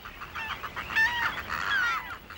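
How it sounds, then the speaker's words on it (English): Black-naped tern chicks calling to a returning parent, a few high, thin, wavering cheeps and chirps in quick succession, close and clear over quiet background. "When the parent bird comes back, they run out and make a calling sound to help the parent find them."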